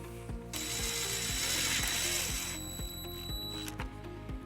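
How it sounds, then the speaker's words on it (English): A ratchet with a 1/4 inch socket drives a self-tapping screw under a 2009 Dodge Nitro, making a close, steady series of rapid clicks that runs through the whole clip without any talk. "we're going to use the provided self-tapping screw with a 1/4 inch socket"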